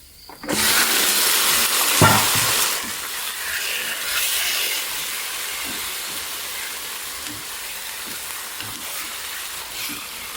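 Crushed, finely chopped garlic hits hot oil with a sudden loud sizzle, then settles into a steady hiss of stir-frying, with scattered faint clicks and scrapes of a utensil in the pan.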